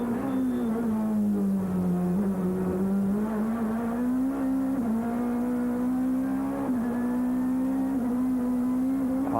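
A touring race car in the 1994 French Supertouring finale at the Ledenon circuit, its engine droning loud and close as it dives downhill, pitch holding steady with small shifts and dips throughout.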